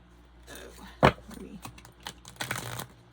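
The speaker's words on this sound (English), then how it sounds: "I feel the need to shuffle these cards even though I shuffled them off camera." Tarot cards being shuffled by hand, soft riffling and flicking with a sharp slap midway and a longer riffle near the end, close and fairly clear with little else around.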